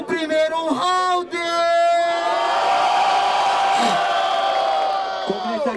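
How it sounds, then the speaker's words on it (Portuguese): Crowd at a Brazilian rap battle, Batalha da Brasilândia, roaring and cheering loudly for the first round, with shouts and whoops rising over a sustained din. "barulho pro primeiro round"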